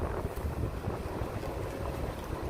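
Evening wind gusts along a street in Midtown East, Manhattan, roaring steadily across the microphone as a loud, dense rush with no pauses.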